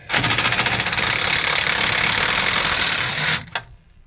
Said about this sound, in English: Impact gun seems to take them right off